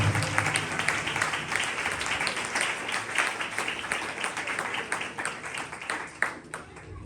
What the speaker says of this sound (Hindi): लिए जोरदार तालियां बजाते हैं।